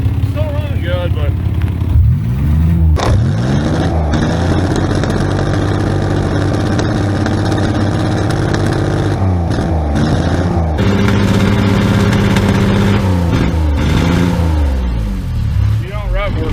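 A diesel Corvette engine revs loud and close, rising and falling through several pulls with sustained rough rumbling in between, as people talk over it.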